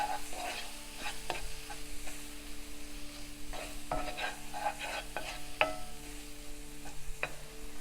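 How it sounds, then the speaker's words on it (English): A spoon scrapes and stirs spices in a hot pan for Kerala fish curry: turmeric, coriander, cumin and fennel seed powder. Irregular close clinks and scrapes run over a low sizzle, with no talking. "You mix all the spices well."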